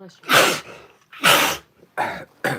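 A person sneezes and coughs in a quick series of four sharp, loud bursts close to the microphone, separated by brief pauses, with a stray spoken word in between.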